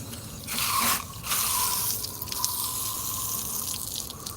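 Water pours and splashes steadily outdoors from a container, a continuous close gushing with a brief surge near the start. No voices are heard.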